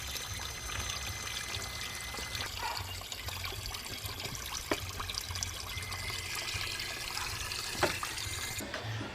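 Tap water running steadily to flush a car's engine coolant system, rusty water pouring out in a continuous hiss and splash with a low rumble underneath and a few faint clicks.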